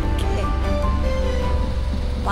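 Rain falls steadily at a wedding venue, making a dense, continuous hiss that fills the whole moment, with faint voices and other sounds in the background.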